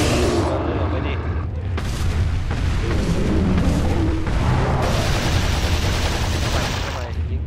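Explosions and heavy gunfire boom through a Resident Evil 4 fight, loud and dense for the whole stretch, with a bright burst near the end and a voice talking over the blasts.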